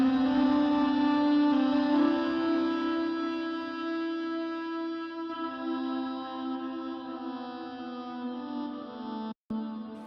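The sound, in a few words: distortion and reverb synth lead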